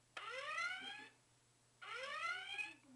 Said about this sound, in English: the original red alert